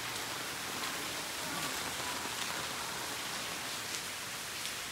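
Heavy rain pouring down steadily during a flash flood at the arts and crafts shops in Gatlinburg, a dense, constant hiss of falling water with no break and no voices.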